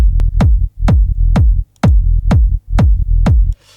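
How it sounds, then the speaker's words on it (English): A deep Serum synth bass plays a simple tech house line, each punchy note sliding downward in pitch, loud and steady with short gaps. "I made a simple bass line with a simple bass sound within Serum"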